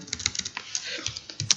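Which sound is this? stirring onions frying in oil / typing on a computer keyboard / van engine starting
typing on a computer keyboard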